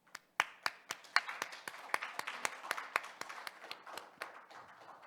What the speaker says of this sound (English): please join me in welcoming him with a big round of applause